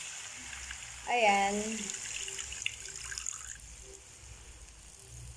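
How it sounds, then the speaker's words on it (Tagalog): Water poured from a cup into a cooking pot of mechado with beef, a brief splashing pour with a trickle tailing off, heard close and under light kitchen talk. "So, mag-a-add na ako ng water."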